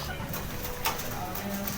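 Soft cooing of racing pigeons close by, low throaty calls over a busy background hum, with a brief flutter in the middle.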